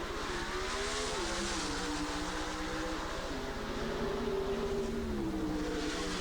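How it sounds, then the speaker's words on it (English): Pro stock drag race cars at a 1988 NHRA event launch and shift gears, a loud continuous engine roar with rising and falling pitch as the revs climb and drop through the shifts. "They bring the RPMs up very high at the flash of the yellow light, slide their foot off the clutch, and start shifting gears."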